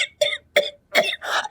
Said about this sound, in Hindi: बड़ी जबरदस्त वाली खांसी हो गई है